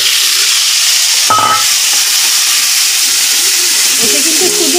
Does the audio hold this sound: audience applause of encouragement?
no